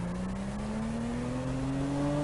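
A modified 2016 Volkswagen Passat with a turbo and dual exhaust accelerates hard at high speed, its loud engine drone climbing steadily in pitch with a constant roar of road and wind noise.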